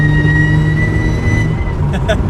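Supercharged Mazda MX5 NA engine running while driving, a loud steady drone with a high, sustained supercharger whine heard from inside the car, with brief speech near the end.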